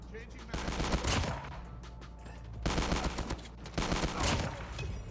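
Repeated bursts from a burst shotgun in Call of Duty Mobile, several loud clusters of rapid blasts separated by short pauses, with a voice talking over the gunfire.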